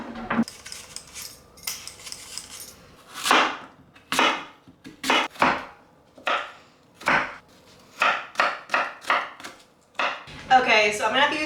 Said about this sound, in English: I just sliced up 15 apples